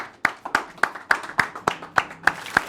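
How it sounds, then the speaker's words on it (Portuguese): Hand clapping in a slow, regular rhythm, about nine sharp claps spaced evenly close to the microphone, with no voices over them. "Vamos aplaudir."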